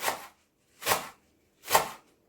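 Fresh garlic being finely chopped with a knife on a board: three sharp, evenly spaced chops, close and distinct, with silence between them.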